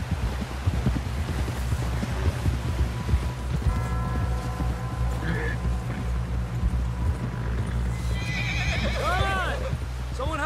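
In Red Dead Redemption 2, a horse whinnies loudly with a rising, wavering cry near the end, while hooves clip-clop steadily beneath music and a voice speaking.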